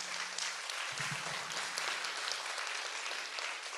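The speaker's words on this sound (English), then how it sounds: "you're getting tons of applause on in person here" An in-person audience at the 2025 Northwest Jewelry & Metals Symposium claps continuously, a faint, distant wash of applause with no talk over it.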